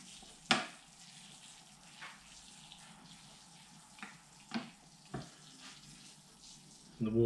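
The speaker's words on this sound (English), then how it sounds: "water's running a lot clearer now" Water trickles and splashes softly while soil for a lemon tree bonsai is rinsed, a quiet steady flow broken by a few brief louder splashes and knocks.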